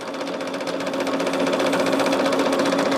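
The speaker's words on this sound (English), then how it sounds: "But right now what I'm doing is quilting" A sewing machine quilts a bag top, stitching 1/4 inch on both sides of each seam, with a close, steady whirring hum and rapid needle rhythm that swells slightly louder partway through and carries on alone.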